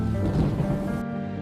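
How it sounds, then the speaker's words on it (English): Rain with a low rumble of thunder, heard as a brief, fairly quiet burst of storm noise that cuts off abruptly partway through. "Rain is coming!"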